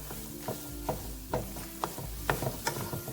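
Corned beef hash cooking in a pan with a utensil scraping the bottom, a steady low sizzle broken by about eight short, sharp scrapes at fairly even intervals, close and moderately loud with no talking.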